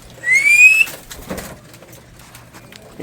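Pigeons in a racing loft give a bright rising whistle-like call near the start, followed by faint soft rustles and low murmurs in a quiet space.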